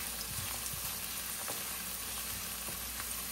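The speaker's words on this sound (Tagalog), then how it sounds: "Gisa-gisa lang." Garlic sautéing in a pan for ginisang munggo, a steady soft sizzle with occasional faint clicks of stirring, no talking.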